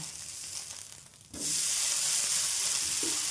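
Dosa batter sizzling on a hot griddle, a steady bright hiss that quiets briefly then swells loudly and evenly, close by with no talk.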